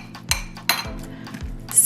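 A spoon scraping and knocking inside a bowl while tuna salad with chopped onion is stirred together, a few distinct close clinks and scrapes against a quiet background.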